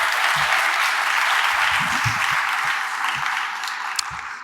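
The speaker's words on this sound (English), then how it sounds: "Join me in applauding yourself." Conference audience applauding at the close of a discussion series, a dense, loud wash of many hands clapping continuously, fading slightly near the end.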